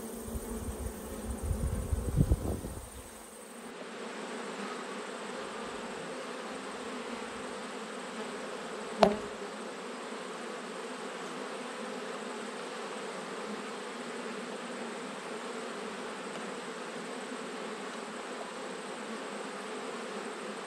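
Honey bees swarm around an open, honey-heavy hive during an autumn inspection in Australia, making a steady, close, continuous buzzing hum that fills the whole clip without any talk.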